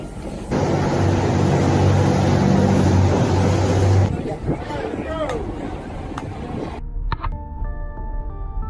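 A boat loiters just offshore of an erupting volcanic island, its engine giving a steady loud rumble for several seconds before the sound shifts to rougher wind and water noise with faint tones toward the end.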